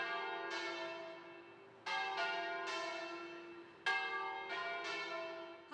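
Church bells in Mestrino, Italy, ring out for a funeral in a slow series of clear, resonant strikes, each tone swelling and fading into the next, with no voices.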